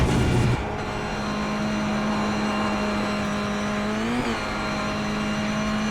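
A Mazda MX-5 production race car engine in iRacing at Lime Rock Park holds a loud, steady high drone after a short rev change, with a brief pitch wobble near the end and no talk.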